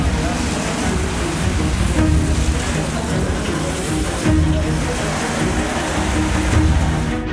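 Rain falls steadily across rural villages, a dense, even rushing hiss that holds at one loudness from start to finish with no break or lull.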